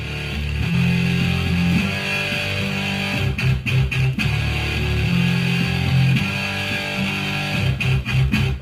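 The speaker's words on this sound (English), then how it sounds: "Now we got an electric guitar." An electric guitar line synthesized from a processed sample and run through an amp with reverb plays a sustained, melodic phrase of shifting low notes, with a steady bright upper tone, alone and fairly loud.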